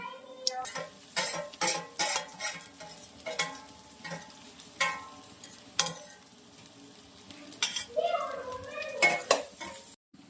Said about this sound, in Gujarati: હમણાં થોડા તલ નાખીએ વઘારમાં.